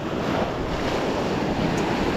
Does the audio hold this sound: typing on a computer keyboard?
no